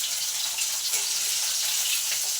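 Hilsa fish fries lightly in oil in a wok, giving off a steady, bright sizzling hiss that stays even and close throughout, with no talking.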